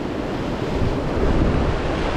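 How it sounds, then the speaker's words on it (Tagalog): Big sea waves surge along a Middle East coastline in rough season, with strong wind buffeting the microphone; a loud, continuous roar of surf and gusts with no voices. "malalaki ang alon dito"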